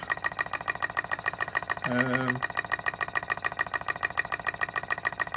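A small single-cylinder Stevens Model Dockyard marine steam engine chugging at a steady, rapid rhythmic beat, close by, with a brief tonal hum rising over it for a moment.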